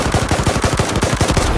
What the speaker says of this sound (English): I just mortared a mortar.